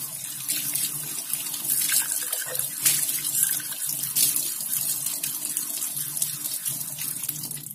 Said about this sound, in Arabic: اهو هنغسله بسبونشة وصابون عادي جدا وهنشطف